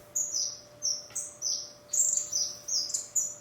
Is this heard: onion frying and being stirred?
no